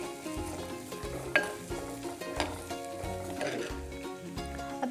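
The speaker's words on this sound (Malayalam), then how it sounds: "ഇതിലൊന്ന് വഴറ്റിയെടുക്കണം." Shallots sautéing in a pan for ayala thoran, a Kerala mackerel stir-fry, give a steady close sizzle with a few brief stirring scrapes and clinks, and no voices.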